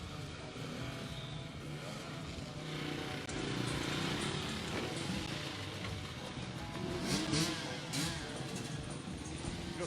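An enduro motorcycle revs hard as it climbs over logs, a trailer and off-camber obstacles during the 2018 Romaniacs prologue. The engine note rises and falls steadily throughout, with surges in loudness amid background noise.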